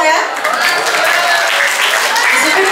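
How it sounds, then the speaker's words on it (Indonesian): A room full of people claps together, loud and close, a continuous burst of applause lasting a few seconds with faint crowd noise mixed in. "tepuk tangan dong ya"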